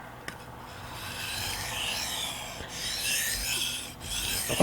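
A steel knife blade rasps steadily across a Shapton Glass sharpening stone, a continuous close scraping with repeated strokes and no voices.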